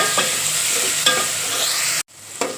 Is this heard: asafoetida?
yes